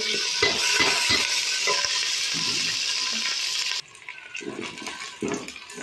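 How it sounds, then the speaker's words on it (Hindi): Onions dropped into a hot pan for aloo matar sizzle in a loud, steady hiss, which cuts off abruptly partway and gives way to quieter stirring and clatter. "प्याज डालूं"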